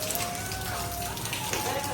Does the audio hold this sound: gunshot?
no